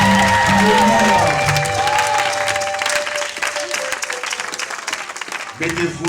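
A church congregation at a prophetic conference applauds and cheers together, a loud dense roar of clapping over sustained tones and voices, dipping briefly before swelling again at the close.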